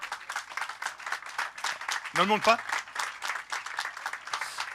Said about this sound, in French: On peut applaudir bien fort